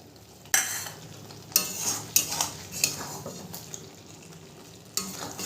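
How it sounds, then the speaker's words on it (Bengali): A spatula stirs sim paturi, a Bengali dish of flat beans, in a pan. It makes several sharp scrapes and clinks over a soft sizzle, close and fairly quiet, with no talk. "খুন্তি দিয়ে একটু নেড়ে দেবো।"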